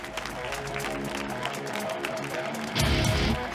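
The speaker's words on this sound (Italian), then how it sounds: "E continuate l'applauso per Lorenzo Siciliano" Applause from a comedy show audience in an Italian comedy club, a steady broadband clapping that swells louder near the end, with crowd noise throughout.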